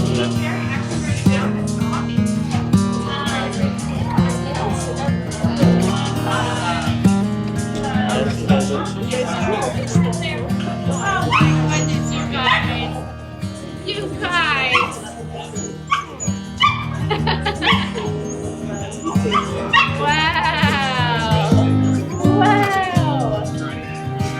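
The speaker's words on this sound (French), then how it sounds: "Il y a des chiens partout." Many dogs bark, yelp and whimper at a dog bingo event in New York City, a dense lively chorus of overlapping calls with people talking throughout.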